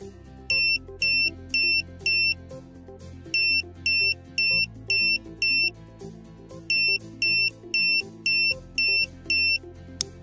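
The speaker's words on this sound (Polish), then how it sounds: "Po sześciokrotnym sygnale dźwiękowym puszczamy przycisk." A Proxima NM receiver beeps during a factory reset, a loud electronic beep repeated in evenly spaced groups over a steady background tone, close and with no talking.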